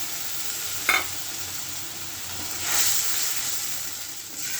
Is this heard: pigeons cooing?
no